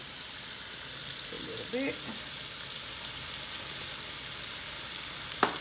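Shrimp and a ribeye steak seasoned with Old Bay fry in a pan with a steady, hissing sizzle, briefly joined by a short spoken remark and ending with a sharp clink.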